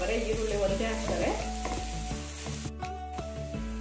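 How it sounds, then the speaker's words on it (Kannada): Finely chopped onion roasting in a kadai sizzles steadily up close, crackling and spitting throughout, with a faint tonal hum in the background. "ಈರುಳ್ಳಿ ಹಾಕ್ತೀನಿ ಒಂದು ಸಣ್ಣ ಸಣ್ಣ ಕಟ್ ಮಾಡ್ಕೊಂಡಿರೋದು ಈ ಈರುಳ್ಳಿನ ಸ್ವಲ್ಪ ಚೆನ್ನಾಗಿ ರೋಸ್ಟ್ ಮಾಡ್ಕೊಂಡ್"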